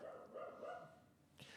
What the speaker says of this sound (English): the dogs are just going kind of crazy right now